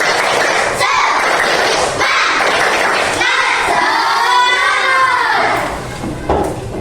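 Schoolchildren in a fourth-grade classroom do the tepuk semangat clapping chant, loud group shouting and clapping with a crowded, energetic rhythm that continues throughout.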